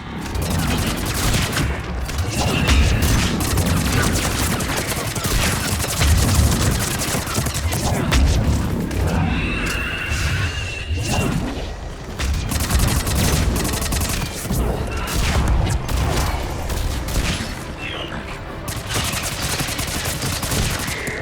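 Air support missile strikes and gunfire in the video game Mass Effect 3, a dense continuous barrage of rapid firing and booming impacts, loud and unbroken throughout.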